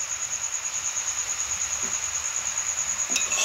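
Chicken frying in a pan with salt, turmeric, pepper and coriander stems, a steady close sizzle with a faint clink near the end and no talking.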